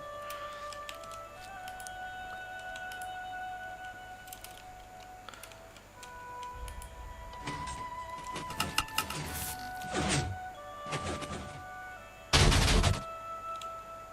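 A Minecraft sand cannon fires in a series of thuds and crackling bursts, building in density before one loud, sudden blast near the end, with a faint electronic tone underneath.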